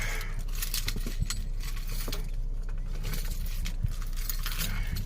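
Inside a car, a bunch of keys jangles and clinks in bright, close metallic rattles over a steady low engine-like hum, with no talking.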